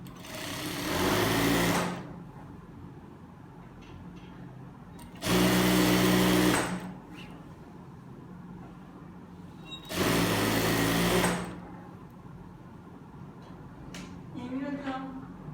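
A sewing machine runs in three separate bursts of about two seconds each, stitching a trouser seam with a 1 cm seam allowance, fast and close up, with quiet pauses between runs.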